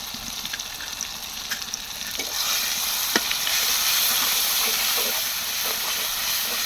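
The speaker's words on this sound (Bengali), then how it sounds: "তা পুরো মশলাটা ভালোভাবে ভাজা হয়ে গেছে" A spice paste of ground mustard, chili paste, turmeric and salt fries in a pan. A moderate crackle turns into a louder, hissing sizzle partway through, with an occasional sharp stir or tap and no talking.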